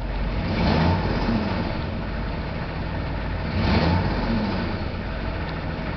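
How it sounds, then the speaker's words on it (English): A 6.5 turbo diesel engine at full operating temperature runs with a loud, gruff idle and swells through two rev-ups, one early and one near the middle, each settling back down. "Let's start revving it up."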